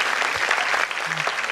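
Applause rises from the audience at a Miss India 2018 pageant stage, a steady dense clatter of clapping filling the hall, with light crowd noise underneath.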